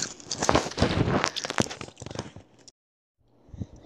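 Crisp, close-up crunching of snacks being bitten and chewed for ASMR, a dense run of crackly bites that stops abruptly, then softer chewing resumes after a short silence.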